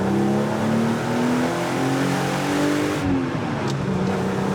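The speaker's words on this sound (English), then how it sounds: "One more time, we have to listen to that engine" A BMW 3.0 CSL Batmobile engine revs loud and close while driving, its harmonic drone climbing and falling steadily, then dipping briefly around a gear change before pulling on again.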